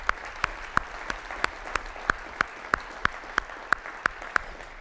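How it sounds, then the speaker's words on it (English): Audience applause for veteran staff at a Veterans Day presentation, a soft wash of clapping cut through by regular, evenly spaced sharp claps or taps standing out in a steady rhythm. "a round of applause to Todd and the veteran staff here"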